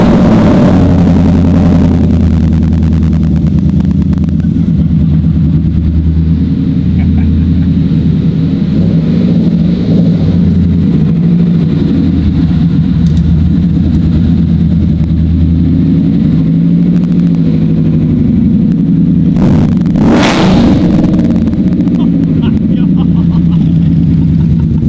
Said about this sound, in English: we really just wanna hear this exhaust